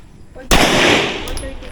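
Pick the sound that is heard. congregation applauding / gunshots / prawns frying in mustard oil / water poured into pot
gunshots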